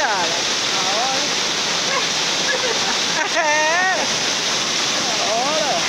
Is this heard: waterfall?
yes